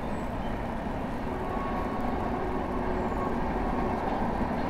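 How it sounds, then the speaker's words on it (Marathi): A Konkan Railway train heading from Mumbai toward Chiplun passes near the Mumbai–Goa highway at Parshuram Ghat, giving a steady, broad rumbling roar that holds evenly throughout. "कोकण रेल्वेची आपण वाट बघत होतो आणि समोरच ट्रेन जाताना आपल्याला दिसते."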